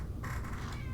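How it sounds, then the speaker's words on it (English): Cat meowing outside, a single short meow heard faintly at a distance over a low background hum. "you can hear the cat outside"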